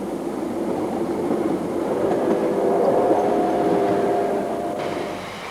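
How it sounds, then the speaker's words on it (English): A steam locomotive train rumbles steadily past, a broad mechanical roar with a faint whistle-like tone rising in the middle before the noise eases off. "The big steam locos pulling the special"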